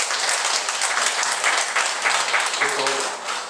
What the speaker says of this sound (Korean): 우리 그 차량 부원들에게 한번 박수 한번 보내드리면 어떨까 싶어요.